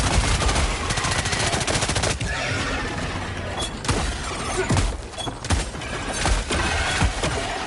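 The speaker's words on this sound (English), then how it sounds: "if I'm spamming shots into a Bile Titan, I want it extremely zoomed out" Guns fire at a Bile Titan in the video game Helldivers 2. The shooting is a loud, dense, continuous barrage of rapid shots that runs the whole time, with dips and bursts and no talk above it.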